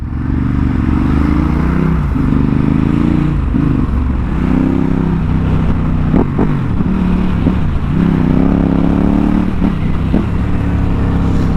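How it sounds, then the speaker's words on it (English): Ducati Hypermotard 939 SP motorcycle riding through city traffic, its engine droning steadily with wind rush, broken by a few sharp exhaust pops and crackles on deceleration, close and loud. "a couple of nice little exhaust pops for you"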